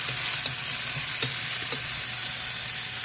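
Garlic scapes and other aromatics sizzle steadily in a hot pan while being stirred, a dense, even frying hiss up close with faint utensil taps and no voices.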